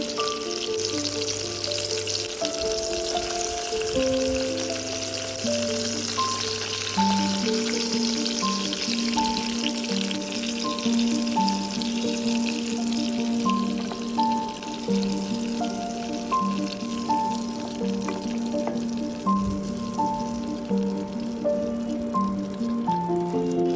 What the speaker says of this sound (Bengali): এবার সর্ষের তেলে মাছগুলো দুপিঠ ভেজে নেবে